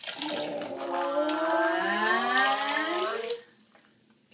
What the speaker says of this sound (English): scoop some water in there